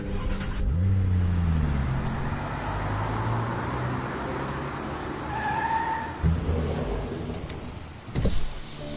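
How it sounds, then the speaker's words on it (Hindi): A car pulls away, its engine hum rising at the start and then settling into a steady low rumble, with a couple of sharper thumps near the end. "गाड़ी चलाओ।"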